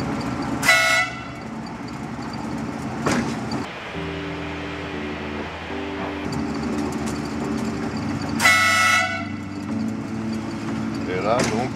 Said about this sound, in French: il faut klaxonner parce que s'il y a une personne juste derrière et qui m'entend pas